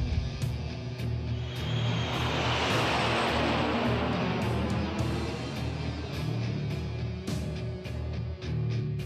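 A Tales of Xillia airship lifts off with a broad rising roar and rumble that swells through the first half and then settles into a steady drone, marked by a few sharp clicks and no speech.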